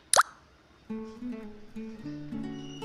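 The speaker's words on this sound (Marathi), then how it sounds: "आता राईस टाकून घ्यायचा आहे" Leftover cooked rice for masala bhaat drops into the cooking pot with one soft, close plop right at the start, followed by quiet, faint ringing tones.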